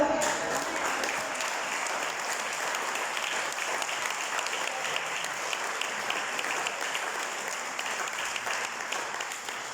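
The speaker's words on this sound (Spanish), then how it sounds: "¿Alguien le damos un aplauso al Señor?" Church congregation in Costa Rica applauding in worship, a dense sustained wash of many hands clapping that fades slightly toward the end, with faint voices mixed in.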